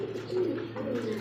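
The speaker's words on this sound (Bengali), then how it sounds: "সোয়া চন্দন কবুতর, কিন্তু কালারটা হচ্ছে রেয়ার ক্রিম রেয়ার কাল ক্রিম বার" A rare cream-barred pigeon coos in a low, throaty burst, close and fairly soft, with no talk over it.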